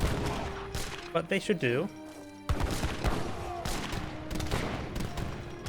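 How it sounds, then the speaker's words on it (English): Organ guns fire a volley in an Age of Empires 3 battle, a burst of crackling shots mixed with thuds and clatter, heard under a commentator's talk and in-game sounds. "Organ guns get a good volley there."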